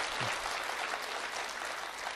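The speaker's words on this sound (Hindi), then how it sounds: "तालियां आप लोग कमजोर बजा रहे हैं" An audience claps in a steady, dense wash of applause that fills the room evenly at moderate loudness, with no one talking over it.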